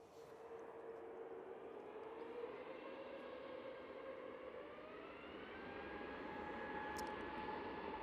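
An easyJet airliner departing Manchester Airport, its engine roar steady and sustained with a slowly sliding whine, growing slightly louder toward the end, with no talking.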